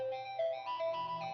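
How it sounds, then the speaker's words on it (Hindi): A mobile phone ringtone plays a continuous bright electronic melody of stepping tones, filling the room steadily at moderate volume with no voices over it. "इतनी देर से फोन बज रहा है, आप उठा क्यों नहीं रही हैं?"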